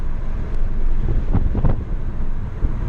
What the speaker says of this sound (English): There's a good amount of wind coming in.